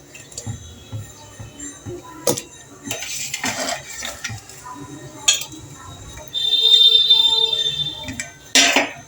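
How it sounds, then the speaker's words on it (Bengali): Spoon scraping and clinking against a pot as jaggery is stirred into milk, with intermittent metallic knocks and soft liquid squishing, moderately close, no talking. "নাড়তে হবে, গুড়টা যতক্ষণ মিশে না যায়"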